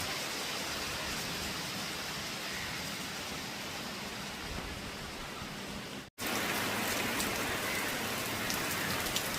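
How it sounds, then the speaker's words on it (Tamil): Heavy rain pours steadily onto surfaces during a sudden downpour, a loud, dense hiss of drops with a very brief break before continuing just as strong. "செழிப்பாக மழை பெய்யுது."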